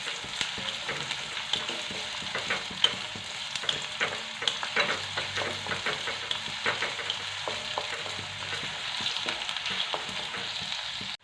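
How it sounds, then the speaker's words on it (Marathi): Finely chopped medium onion fries loudly in a pan, a constant close sizzle broken by frequent crackles and scraping stirs, with no voices over it. "आता कांदा छान आपल्याला लाल रंगावरती परतून घ्यायचा आहे।"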